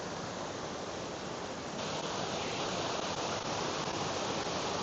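Acriggs Falls waterfall in Swatara State Park, Pennsylvania, running fast: a dense, continuous rushing roar of water, loud and steady throughout with no voices.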